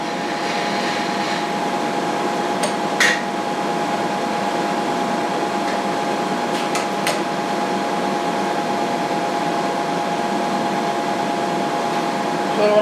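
A milling machine cutter cuts a slotted base for a machinist jack, a steady droning hum with a faint constant whine and a few brief clicks, running evenly throughout.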